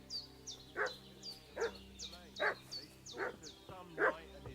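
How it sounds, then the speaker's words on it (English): A dog barking in the medieval video game Kingdom Come Deliverance 2, five or six regular barks spaced about a second apart at mid distance over a quiet background. "What's that dog making such a fuss about?"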